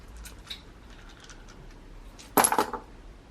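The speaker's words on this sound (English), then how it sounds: "sometimes I like to use my dice board as well to mix them around in it and throw them down" Casting bones are shaken and thrown down onto a dice board, landing in a bright, rattling clatter of several quick hard clicks after a quiet stretch.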